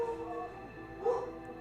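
A dog gives a couple of short, faint whimpering yips and barks from a distance within a quiet room, with a slightly louder yelp near the end and no one talking.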